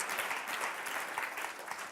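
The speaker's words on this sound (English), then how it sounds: "give them a big round of applause" Audience at the Trust Conference 2017 applauds a group just introduced, with steady, dense clapping that holds throughout and stays quite faint and distant.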